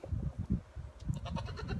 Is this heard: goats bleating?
yes